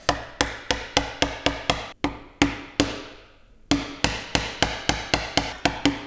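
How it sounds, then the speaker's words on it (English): A mallet strikes a chisel cutting a dovetail joint socket by hand in wood, sharp close knocks in a quick steady rhythm, about twenty blows with a brief pause midway. "you are chiseling it into a wedge-shaped cavity"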